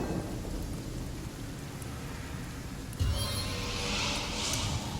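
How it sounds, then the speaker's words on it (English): A hailstorm spell in the fantasy role-playing game Divinity: Original Sin unleashes steady pounding rain and hail with a rolling thunder rumble, loud and continuous, growing heavier partway through. "We're going to drop another hailstorm out there."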